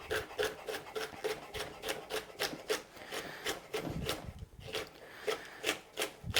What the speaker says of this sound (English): and I'll just slice it fine.